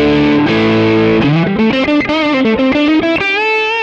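Distorted electric guitar played through a CR2 TONEX tone model on a Quad Cortex, with a sustained chord followed by a quick run of picked lead notes carrying an edgy, bright top end.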